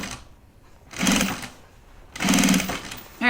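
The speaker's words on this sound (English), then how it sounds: "Now you can carry on with the sewing." A domestic sewing machine stitches a fabric project bag in two steady motor bursts, each about a second long, with quieter pauses between them.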